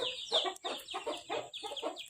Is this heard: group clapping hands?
no